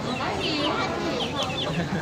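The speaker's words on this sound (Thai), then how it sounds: "ไก่หัวเราะ" A laughing-breed chicken crows with a rolling, chuckling call, close and fairly loud, over farmyard background noise.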